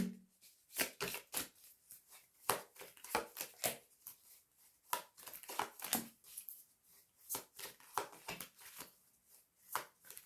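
Tarot cards are handled and shuffled close by, a quiet run of soft, irregular papery riffles and slaps repeating throughout, with no voices.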